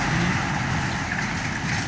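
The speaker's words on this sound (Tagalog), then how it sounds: "Oh, big truck." A big truck passing on a road during a countryside bike ride, a broad steady engine and tyre rumble heard close and loud for a couple of seconds, with no talk.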